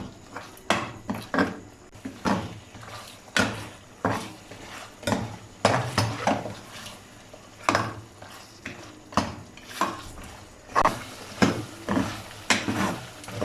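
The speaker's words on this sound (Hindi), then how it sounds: "अब इसे मज़ीद 2 से 3 मिनट के लिए भूनेंगे" Bhuna gosht, mutton being stir-fried in a pot, with a spoon repeatedly scraping and clanking against the metal in steady rhythmic strokes over a low background sizzle, fairly close and without talk.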